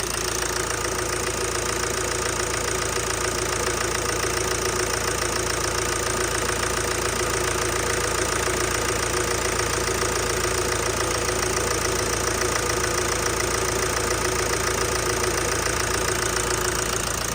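A Ford Transit 1.8 TDCi diesel idles steadily while warming up, a constant close, even rumble with a faint knocking texture and no voices.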